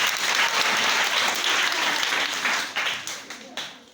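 An audience at a church children's gift-box event claps loudly in acclaim of the Lord, a dense burst of applause that holds steady and then tapers off in the last second.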